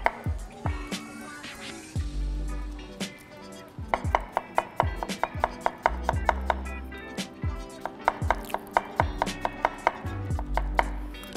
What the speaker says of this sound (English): So why I'm cutting like this is trying to get, not cut through, but absorb the vinaigrette